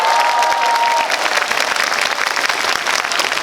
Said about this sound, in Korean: 아이들에게 여러분 뜨거운 박수를 부탁드리겠습니다